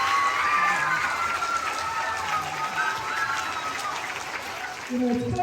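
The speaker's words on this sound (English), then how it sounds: "Clap it up for that." An audience at a donation event for a farm foundation applauds steadily, a dense, fairly loud wash of clapping from start to end, with voices mixed in and a brief lull near the end.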